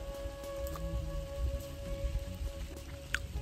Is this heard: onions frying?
no